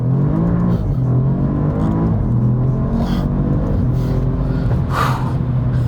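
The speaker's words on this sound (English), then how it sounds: "I'm pretty sure there was just a crack from the exhaust as well" An Alfa Romeo Giulia Quadrifoglio's engine drones loudly and close, shifting pitch through a gear change, with a short sharp exhaust crack bursting out near the end.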